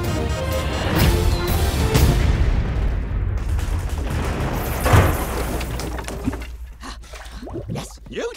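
Cannon fire sinks a toy battleship in an Addams Family scene: several heavy booming blasts with rumbling tails, followed by quieter clattering debris.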